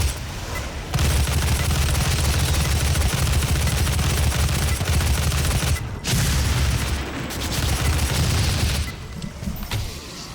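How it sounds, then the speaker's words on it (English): Sustained rapid gunfire in the shooter game Doom, loud and dense, firing almost continuously with a couple of short breaks, and no voices over it. "I am absolutely shooting this guy in, like, the knees, or sometimes just between the legs"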